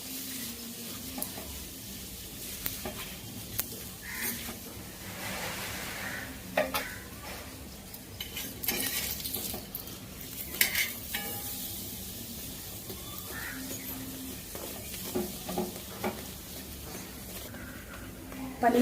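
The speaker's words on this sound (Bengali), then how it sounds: "পনির পরোটাটা আমার ভাজা হয়ে গেছে বন্ধুরা, তুলে নিচ্ছি।" Paneer paratha frying in oil on a pan gives a steady sizzle, broken by scraping and light clinks of a spatula as it is turned and pressed.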